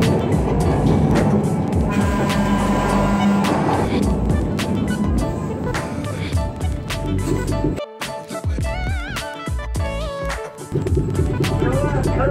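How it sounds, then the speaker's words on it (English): Loud rattling and rumbling ride aboard one of the older San Francisco cable cars, with clanks, squeals and a brief dropout midway, steady mechanical noise throughout. "I'm actually on one of the older cable cars right now."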